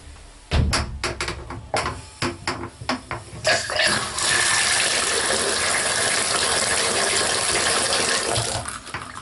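Hot water gushes steadily from a tap in a fifth-wheel travel trailer in a broad, continuous rush after several seconds of knocks and clatter at the start.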